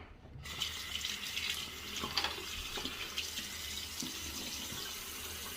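Bathroom tap running into a sink while shaving, a steady close hiss of flowing water that starts abruptly and carries on evenly with small splashes.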